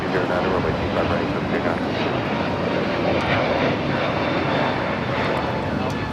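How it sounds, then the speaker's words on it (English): A United Airlines A321neo takes off at Los Angeles LAX bound for Chicago, its engines a continuous, loud broadband roar that holds steady and close for the whole stretch. "That was United Airlines 2113 taking off to Chicago on the A321neo"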